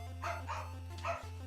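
A dog gives two short barks at moderate distance, heard over a steady low electrical hum.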